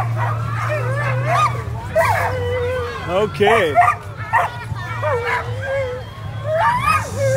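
Sled dogs at the Fur Rondy sled dog race in Alaska, a team of about 60 dogs yipping, whining and barking in repeated overlapping bursts nearby, with a steady low engine-like hum beneath and a voice talking briefly.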